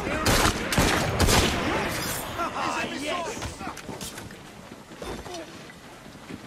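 Gunfire in the Assassin's Creed Syndicate video game during a cargo escort, several loud shots cracking in quick succession near the start, then fading into wind and water noise with game voices talking.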